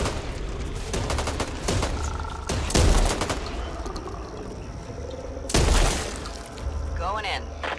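Gunfire rattles through a Back 4 Blood match in repeated loud bursts, with two heavy blasts standing out over continuous battle noise and brief game voices.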